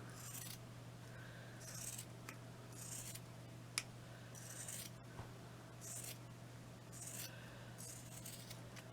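Leftover craft material is cut into a shape for a decorative wall plaque, giving quiet, crisp snips about once a second over a low steady hum.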